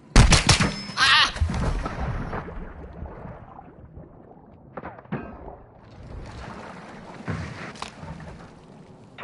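Video game pistol fire rings out in a few sharp close shots at the start, followed by scattered softer bangs and game noise while a person talks and exclaims.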